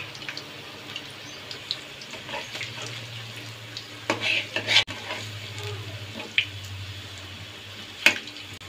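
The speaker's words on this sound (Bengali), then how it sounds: "পকোড়া ভাজা 1 পিঠ হয়ে গেছে" Eggplant pakoras, crispy beguni, fry in hot oil with a soft, steady sizzle over a low hum, broken by a few sharp utensil clinks near the middle and end. No one speaks.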